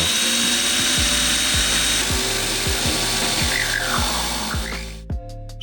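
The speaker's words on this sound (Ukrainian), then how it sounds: "Для першого випробування ми взяли дерев'яний брусочок товщиною в 3 см. Запускаємо секундомір і сверлимо." A modern electric drill bores through a 3 cm wooden block, a loud continuous whine with rhythmic grinding pulses that cuts off abruptly near the end, leaving brief clatter.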